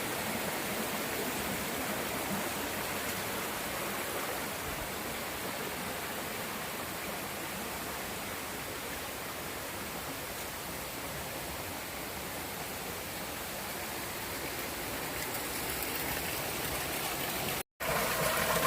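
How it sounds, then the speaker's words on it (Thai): Steady, full rush of a temple waterfall in Saraburi, Thailand, loud and constant throughout, with a brief dropout near the end. "อันนี้ก็เป็นน้ำตกที่ไหลมาจากข้างบนนะคะ"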